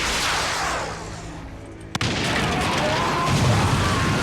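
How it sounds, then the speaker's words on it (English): A firework bursts in a zombie TV drama, a loud sharp explosion cracking out about midway through under a dense, roaring noisy backdrop. "Carol lights a firework, drawing the dead right into Terminus"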